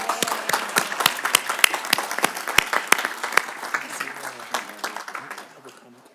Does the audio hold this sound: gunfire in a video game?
no